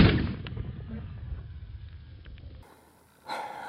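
A .410 shotgun shell loaded with number 8 shot fires from a hybrid muzzleloader barrel at a water-filled milk jug 10 yards away: one sharp report at the start that decays into quiet, followed by a soft breath.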